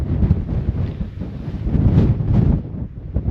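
A strong mountain gust near the Picos de Europa peaks roars and buffets the microphone in a steady, loud rush, with no speech over it.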